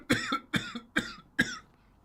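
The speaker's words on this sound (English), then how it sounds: "I'm about to cough." Four sharp coughs in a row from a man, evenly spaced and close, each a short harsh burst, with nothing else around them.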